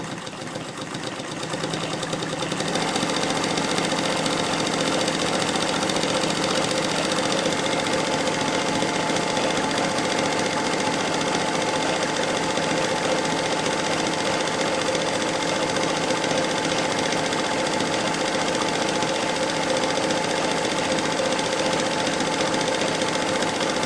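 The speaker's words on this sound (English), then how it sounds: "now we're going to run the 3-stitch zigzag set at 6 millimeters" A Bernina Chandler 217 industrial sewing machine with a decorative cam box stitches a 6 mm three-stitch zigzag, starting up and then running as a loud, steady, rapid mechanical whir and chatter for more than twenty seconds, with no talking.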